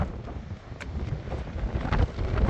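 Wind buffets the microphone outdoors at the Crusader fortress of Apollonia above the harbor, a steady rumbling roar with gusts swelling louder toward the end and no talking.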